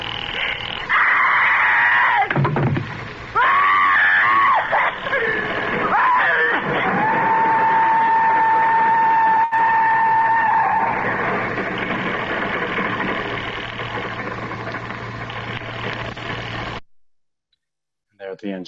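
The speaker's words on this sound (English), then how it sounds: "she blends into the screaming of the train as it goes by" A radio drama effect: a loud, drawn-out shriek and roar of a train rushing past swells with a woman's scream blending in, then cuts off abruptly.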